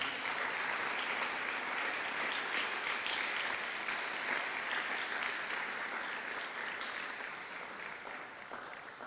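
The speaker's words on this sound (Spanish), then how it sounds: "Dele un aplauso al Señor, hermano amado." A church congregation applauding together, steady dense clapping from many hands in a reverberant hall, sustained for several seconds and slowly tapering off.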